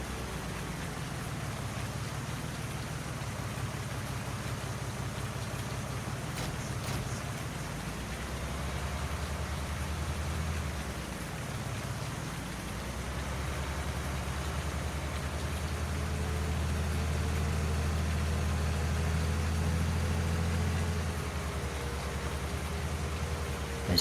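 Steady rain falls in Farming Simulator 19 over a low rumble of farm machinery, a continuous soft wash of drops with no talking.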